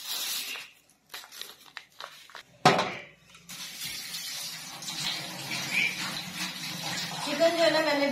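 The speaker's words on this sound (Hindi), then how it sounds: "मैं चिकन को धो के रख देती हूँ" Kitchen tap water running while boneless chicken is washed for a village-style white chicken karahi, starting after a few soft knocks and handling noises, then a steady, close gushing stream with splashing that continues to the end.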